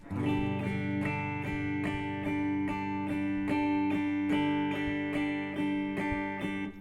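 Steady strummed guitar chords in a down-up eighth-note rhythm, evenly repeated and close, with no voices.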